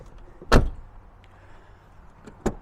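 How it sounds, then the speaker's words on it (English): Passenger door of a Range Rover P38A swung open and shut closed, one solid thunk near the start and a second quieter latching clunk near the end, close up with faint room noise between. "Now our passenger door, same thing. Opens and closes beautifully."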